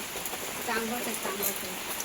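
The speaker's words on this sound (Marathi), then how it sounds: "रिमझिम पावसाची सुरुवात झालेली आहे" Light drizzle begins on a Konkan morning, a soft, faint patter of raindrops spread evenly, with indistinct voices faintly in the background.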